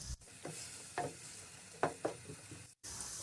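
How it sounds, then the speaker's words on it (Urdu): Finely chopped onions fry in hot oil toward light golden for beef karahi, a soft steady sizzle broken by several scraping stirs of a spoon against the pan, with no talking. "پیاز کو ہم تب تک فرائی کریں گے جب تک اس میں لائٹ گولڈن کلر نہ آ جائے"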